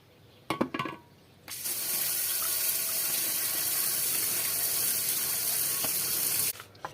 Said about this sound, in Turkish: Bu şekilde çöpleri bitene kadar yıkayacağız.